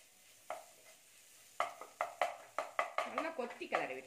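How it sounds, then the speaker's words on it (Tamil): Egg stuffing for Ceylon egg parotta is chopped and stirred in a pan, with a quick series of sharp utensil knocks and scrapes over a light sizzle, close and rhythmic after a short pause. "நல்லா கொத்தி கிளறி விட்டுருங்க, பெரிய பெரிய பீஸ் இல்லாமல் பார்த்துக்கோங்க"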